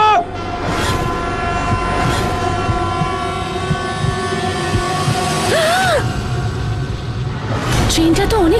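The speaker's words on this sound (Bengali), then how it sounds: "ট্রেনটা তো অনেক কাছে এসে গেছে।" A train draws near with a continuous rolling rumble and a horn sounding, loud and close, under a dramatic background score; voices speak over it in places.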